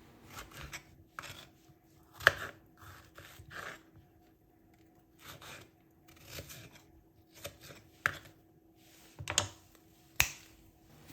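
Strawberries are cut into rough pieces with scattered, irregular knife taps on a board, quiet and close, in short bursts separated by pauses.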